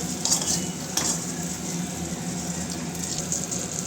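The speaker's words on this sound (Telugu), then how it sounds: "ఇప్పుడు ఉప్పు వేసుకున్నాం కదా, అవి కూడా మంచిగా కలుపుకోవాలి." Fried green chillies with salt are stirred in a pan, making a steady sizzle with metal spoon clinks and scrapes against the pan, close and moderately loud, with no speech.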